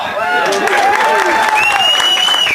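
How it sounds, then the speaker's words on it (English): A crowd at a cowboy action shooting event applauds and cheers loudly and continuously for a gun-spinning performer, with voices rising through the clapping. "quit clapping, I can't go on forever."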